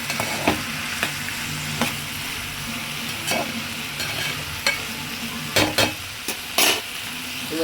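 Green chillies and broad beans sautéing in a pan for a bean and tomato curry, a loud constant sizzle broken by repeated scraping stirs of a spatula, some clustered close together.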